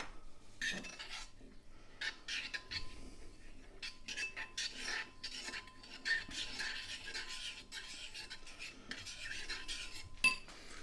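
A spoon stirs Quaker instant oats in a bowl, giving steady scraping and clinking against the sides in repeated strokes, close and fairly quiet, with no talking.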